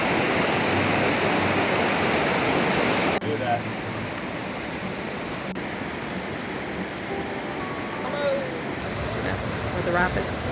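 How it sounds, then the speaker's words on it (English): Rapids below High Falls waterfall in Algonquin Provincial Park give a loud, steady broadband roar of rushing water that fills the whole clip, dipping slightly partway through. "The rapids."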